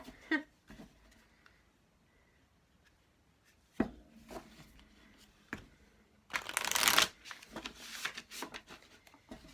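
A deck of cards is shuffled close up during a crystal and card reading: soft scattered taps and riffles, then a loud dense burst of cards riffling together, followed by lighter handling sounds.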